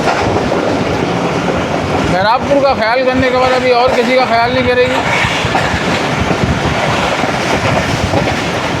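The Pak Business Express train rumbles and clatters through Lakha Road station in Pakistan in the early morning, with a long wavering horn blast sounding midway, while someone talks over it.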